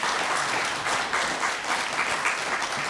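A church congregation claps at an ordination and anniversary service. The applause is steady and sustained with a moderately loud, even patter throughout and no talking over it.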